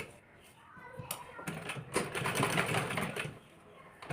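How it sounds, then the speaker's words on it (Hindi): Sewing machine running along the top edge of a blouse piece, a fairly loud mechanical whir that picks up midway and runs steadily for a couple of seconds, with fainter clicks before and after. "अब इसको हम ऐसे पूरे ऊपर साइड में से सिलाई मार देंगे"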